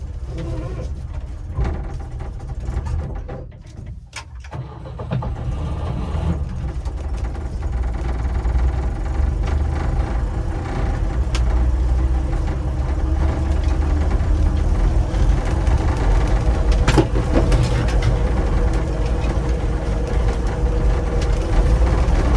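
Lada Niva engine running with a steady, loud, low drone that dips briefly early on, then holds even and continuous throughout, close by, with no talk.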